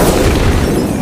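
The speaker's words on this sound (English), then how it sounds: "the car exploded" A car bomb detonates in a single loud, close blast, a dense roar of low rumble and crackle that fills the whole second without fading.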